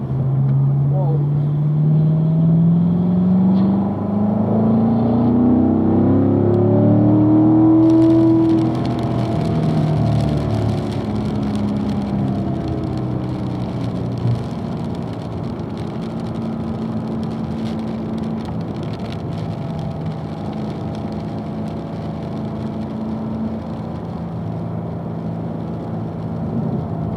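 Race car at a performance driving school lapping a track, engine droning and sweeping up and down in pitch as it accelerates through turns, heard from inside the car under an instructor's coaching voice.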